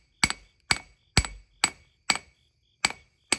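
A hammer strikes hot steel while bevels are forged on a mountain man knife, seven sharp ringing blows in an even rhythm, close and clear with no talking.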